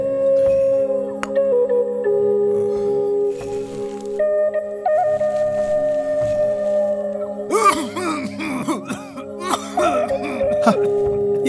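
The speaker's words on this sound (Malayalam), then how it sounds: "ചുമയ്ക്കുമ്പോ നല്ല താളത്തിൽ ചുമയ്ക്കണം" Several coughs ring out in a Malayalam film comedy scene, bursting irregularly over steady background music during the latter half.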